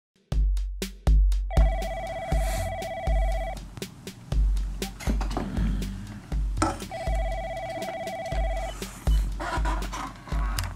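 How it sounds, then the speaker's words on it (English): A telephone rings in two long electronic bursts separated by a pause, loud and close, with thumping beats underneath. "I get a phone call from Mike Hill"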